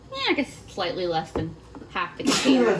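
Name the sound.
sneeze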